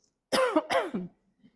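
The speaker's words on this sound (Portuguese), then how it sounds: "espera um pouquinho que eu vou tossir" Two quick, harsh coughs in close succession, loud and near, then silence.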